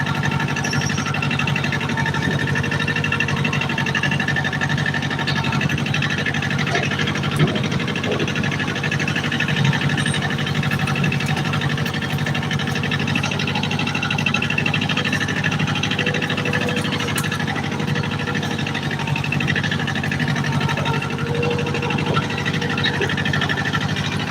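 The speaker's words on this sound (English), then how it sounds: "We're just running this old John Deere tractor through the yard." An old John Deere tractor engine runs steadily while driving through a wooded yard, a constant loud mechanical drone and whir with no speech and no change in pace throughout.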